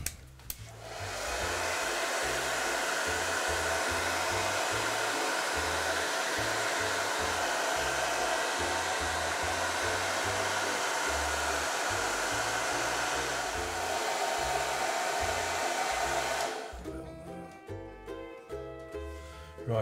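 A hair dryer blows a steady, loud whir for about fifteen seconds, drying paint on a ceramic forgery, then switches off, leaving softer handling noises.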